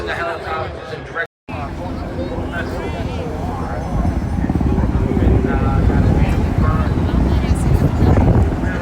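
Helicopters fly at the Jones Beach Airshow, a loud, continuous rotor and engine roar mixed with wind buffeting. An announcer talks over it, and the roar swells louder after a brief dropout.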